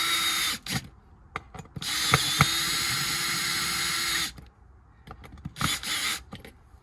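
A combi drill tightening wheel nuts: bursts of whirring motor with rapid ratcheting clicks, one long sustained run in the middle and shorter pulses before and after, close and loud with quiet gaps between.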